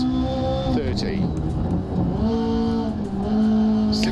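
Rally car engine in DiRT Rally 2.0 holds a steady high drone, the pitch dropping and climbing again as the car brakes and accelerates through corners, with tyre and gravel noise beneath and a person talking over it.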